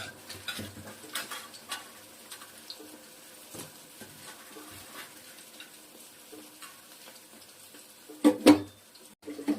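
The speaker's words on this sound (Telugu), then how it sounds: "బాండీలో ఇలా వేయించుకోవాలమ్మా" Bitter gourd, rubbed with salt and turmeric, fries in a pan with a soft, low sizzle and gentle stirring scrapes, then a louder clatter of the utensil near the end.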